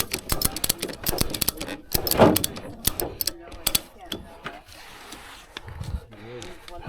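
Ratchet straps cranked tight on a towed vehicle, with rapid metallic clicking ratchet strokes in bursts, loud and close, fading into scattered clanks and handling noise, with voices faintly in the background.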